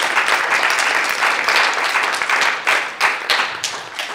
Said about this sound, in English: Applause is welcome, please.